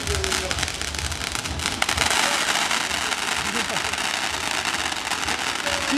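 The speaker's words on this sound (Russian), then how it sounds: "Вы можете сами купить салют и сами его запустить." Continuous crackling and popping of fireworks over a dense, noisy background, with a voice briefly audible underneath.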